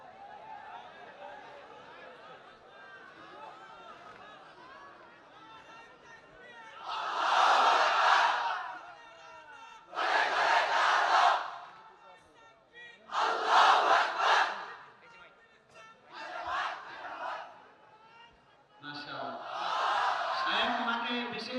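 A large crowd at an Islamic gathering answers a leading voice by shouting the takbir, Allahu Akbar, in unison, five loud bursts a few seconds apart with quieter talk between them.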